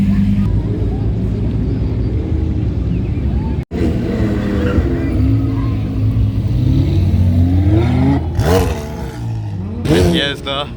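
A blue Lamborghini Revuelto supercar drives past at an outdoor car show with a loud, rising engine roar and sharp revs near the end, while voices and crowd noise sound in the background.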